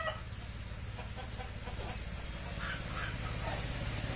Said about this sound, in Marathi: ह्या फायटर कोंबडे आहेत